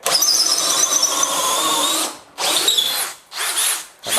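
A DeWalt DCD805 cordless hammer drill bores into wood with a loud, high whining motor and squealing bit, running steadily for about two seconds, then two shorter bursts with brief pauses between them; no one speaks.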